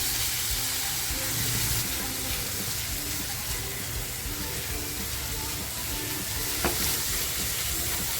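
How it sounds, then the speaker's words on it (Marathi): Continuous close sizzling and frying of masala in hot oil for dhaba-style chicken lapeta, a steady dense crackle with faint stirring, no voices. "तर बघा आपला मसाला किती छान फ्राय झालेला आहे"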